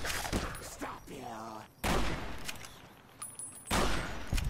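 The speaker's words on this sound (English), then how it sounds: "Pulling out our trusty rifle, or medicine stick, we've dropped several of them." Rifle shots in a video game, fired at feral ghouls: three loud, sharp blasts spread across a few seconds, with a quieter stretch of game ambience and faint tonal sounds between them.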